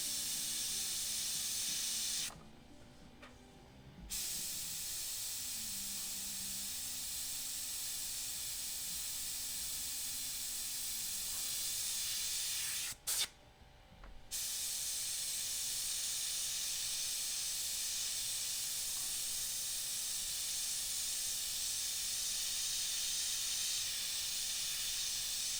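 Continuous hiss of an airbrush spraying paint for a freehand skull, steady and close, cutting out briefly twice before resuming.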